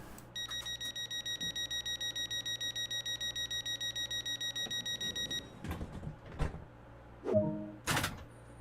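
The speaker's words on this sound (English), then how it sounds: "We'll close the doors." A Class 465 Networker train in Train Sim World 2 sounds a rapid, steady series of high electronic warning beeps for about five seconds, then its doors slide shut with pneumatic thumps and a clunk.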